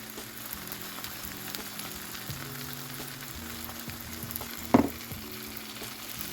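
Egg whites fry in a pan with a steady, soft sizzle that continues throughout, and a brief clink of a utensil comes near the end, with no talking.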